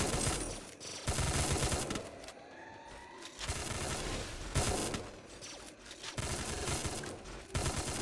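Rapid gunfire and grenade blasts from a shooting video game come in repeated loud bursts with brief gaps between them.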